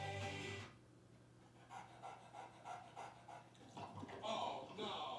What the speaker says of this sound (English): Who let the dog in?